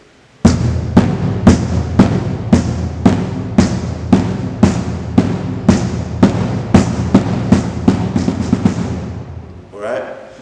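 Marching bass drums play SEC beat 7: a loud, close run of about twenty evenly spaced booming hits, then a brief faint rumble as the pattern ends.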